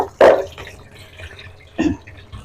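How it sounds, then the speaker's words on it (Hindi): Mustard greens are washed in water in a strainer, with two distinct splashy pours of water, one near the start and another toward the end, separated by quieter dripping, and no voices. "इस तरह छलनी में डाल के धोते जाना, पतीले में डालते जाना।"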